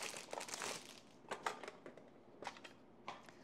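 Packaging crinkles as it is opened, with quiet, irregular bursts of rustling and crackling heard up close.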